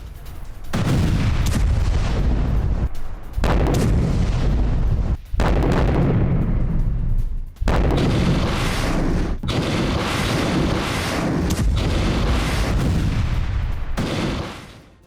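Katyusha rockets fired by Hezbollah pound Israeli military positions in Upper Galilee, making a loud, nearly continuous roar of blasts and rumbling impacts with a few brief gaps.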